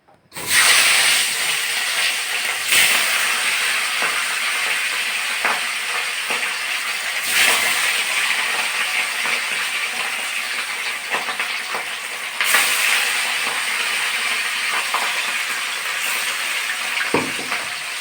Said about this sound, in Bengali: প্রথমে এই যে লবণ হলুদ মাখানো মাছটা আমি ভেজে নেব কড়াইতে দিয়ে দিচ্ছি